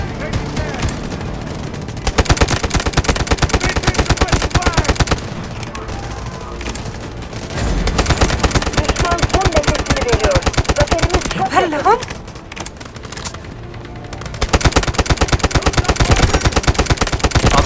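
Rapid automatic gunfire in the shooter video game Delta Force, loud dense volleys of shots in repeated bursts, with a player talking over the action.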